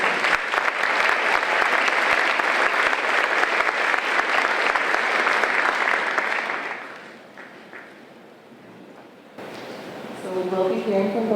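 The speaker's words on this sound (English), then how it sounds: "One more round of applause for these lovely ladies." A school spring night club concert audience gives dense, sustained applause that fades out after about seven seconds. A nearby voice then starts speaking over the quiet room.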